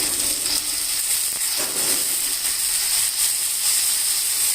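Ginger garlic paste sizzles steadily in a hot pan with fried onions, a dense continuous hiss with faint clinks, no voices, for a Telugu tiger prawn curry.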